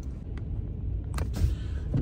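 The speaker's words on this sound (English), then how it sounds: "A little traffic-y today." Street traffic rumbles at the North 7th bus corner on Paterson's Northside, a low, steady engine drone with a couple of brief brighter swishes of passing vehicles, fairly close and with no talk.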